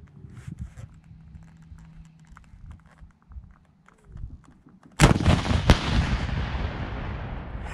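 A shoulder-fired rocket launcher goes off with one sudden, very loud blast and back blast, followed by a long roaring rush that fades slowly, after a few seconds of low background rumble.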